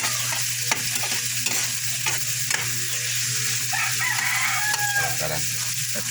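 Crab pieces frying in hot oil give a steady, dense sizzle that fills the whole clip, with faint stirring knocks and a rooster crowing in the distance.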